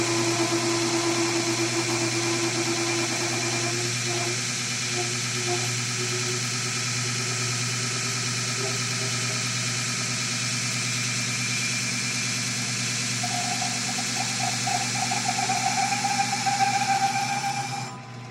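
A Fein Grit GX75 centerless grinder with a GXC unit and GXW cooling unit grinds 1-inch ERW steel pipe with 120 wall, giving a steady, close mechanical hum with a faint whine and light scraping throughout.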